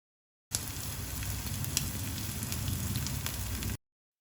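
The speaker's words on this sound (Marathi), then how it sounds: "एका कायलीन 2 टेबलस्पून खोबरेल तेल घालया आणि तेल मातशें तापतकीर तातूंत आमी आमचे पॅटी घालया." Prawn patties fry in two tablespoons of coconut oil in a pan, giving a continuous, moderately soft sizzle with small crackles, heard alone without voices.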